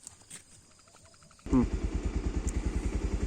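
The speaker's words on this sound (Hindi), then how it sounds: "बाइक से चला जा रहा है" Motorcycle ridden along a roughly one-kilometre route to a cremation ground at Bankul Ghat in UP; after a quiet stretch the engine bursts in close and loud, settling into a steady, rapid thumping putter.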